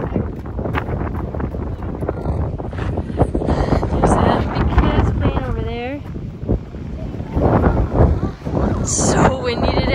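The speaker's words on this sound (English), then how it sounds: "So windy today, but quite amazing." Strong wind rushes across the open desert in a continuous rumbling buffet on the microphone, with people talking throughout.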